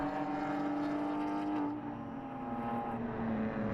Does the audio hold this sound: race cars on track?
yes